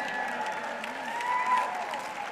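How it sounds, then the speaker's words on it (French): Steady applause from a church congregation, a continuous wash of clapping at moderate level with a faint tonal hum underneath. "vous n'applaudissez pas pour ça aussi fort que vous le devriez"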